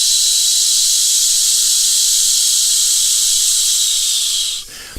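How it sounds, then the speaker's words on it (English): A steady, loud, sustained hiss of breath blown out through the teeth, lasting several seconds before abruptly stopping. "Now blow the breath out using a hissing sound."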